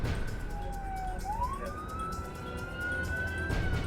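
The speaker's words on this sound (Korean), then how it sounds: "어둠이 내린 8번가 밤거리에 사이렌 소리가 유난히 크게 울린다" A police siren wails on 8th Street in Los Angeles at night, its tone sliding upward and then holding a long, steady pitch over constant low traffic rumble, fairly loud and close, with no talking.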